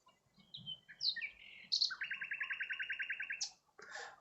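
A male nightingale sings in spring in Thanet, giving varied whistles and chirps followed by a long, rapid run of repeated notes, clear and moderately close over quiet background.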